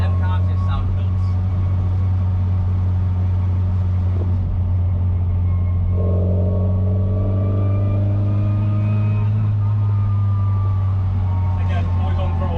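Classic MK1 Mini Cooper S engine drones steadily from inside the car while driving, with a strong low hum and a rising, revving tone partway through, under a voice talking.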